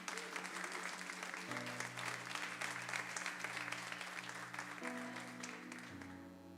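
A church congregation applauds during a Sunday sermon, steady dense clapping that carries on for several seconds, with organ or keyboard tones sustained underneath.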